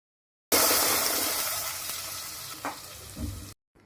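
Fried onions are tipped into cooked beef trotters in an opened pressure cooker and stirred in. A loud hissing sizzle starts abruptly and fades over about three seconds, with a couple of soft clunks near the end and no talk.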